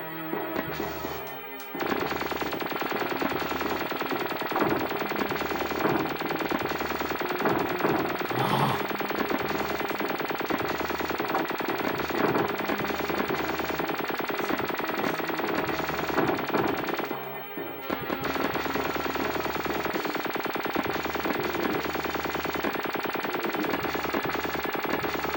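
Rapid, continuous weapon gunfire from a SNES video game, rattling loudly almost without pause for most of the stretch, with a brief drop near the start and another short break later.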